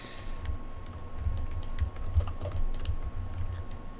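Computer keyboard keys pressed and held during Mudbox 3D sculpting work, a quiet run of soft, irregular clicks close by with a steady background hum and no voice.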